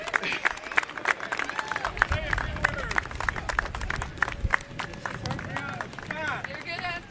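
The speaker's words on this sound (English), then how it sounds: "Round of applause for the truck drivers who did a great job." Outdoor crowd clapping and cheering for truck drivers at the arrival of the U.S. Capitol Christmas Tree; dense, steady applause mixed with voices and chatter throughout.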